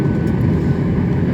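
An airliner's engines roar steadily during takeoff acceleration, a dense low rumble heard from inside the cabin, constant and loud with no talking.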